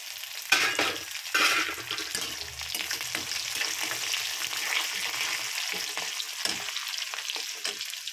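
Cumin seeds and dried red chillies sizzle and crackle in hot oil in a pan for a gongura curry, a steady close frying hiss with a couple of stirring clinks near the start.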